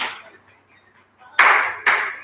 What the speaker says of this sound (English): we're gonna pulse and clap